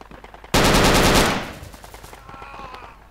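A loud, close burst of automatic gunfire in the military shooter Project Reality, a rapid stream of shots lasting about a second before fading into scattered, quieter distant firing.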